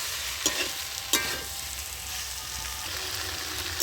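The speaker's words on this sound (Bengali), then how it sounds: "ফুলকপি আর আলুটা দিয়ে আমি আবার ভালো করে কষিয়ে নেব" Cauliflower and potatoes sizzle steadily in a pan, with a couple of sharp scraping stirs standing out over the constant close frying hiss.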